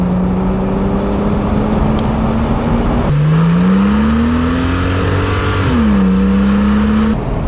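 A 2010 Porsche 997 Turbo Cabriolet, 500 hp, revs hard as it accelerates, its engine tone climbing, dropping with a gear change, then climbing again, loud and close throughout with no talk.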